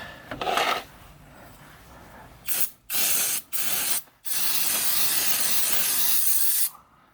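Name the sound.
aerosol brake cleaner spraying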